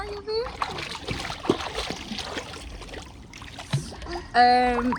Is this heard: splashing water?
yes